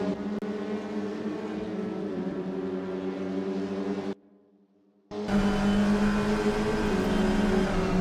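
Touring cars roar in a sim racing game, a loud steady engine drone with layered harmonics that cuts out to near silence for about a second midway, then returns even louder.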